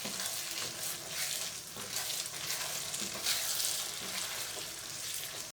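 Green chillies and lobia (black-eyed beans) are stirred and cooked in a pan for a Punjabi-style creamy lobia, giving a steady, close sizzle with soft stirring scrapes throughout and no talking.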